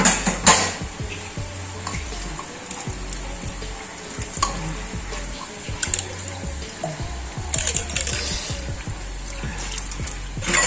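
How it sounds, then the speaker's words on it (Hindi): Dishes washed by hand in a home kitchen, with running water and frequent clinks and clatters of pots, plates and cutlery, loud and close, with no voices. "तो पहले बर्तन धो लेते हैं।"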